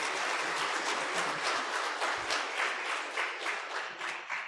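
Audience applause, a steady wash of many hands clapping at moderate distance, gradually thinning toward the end, with no talk over it.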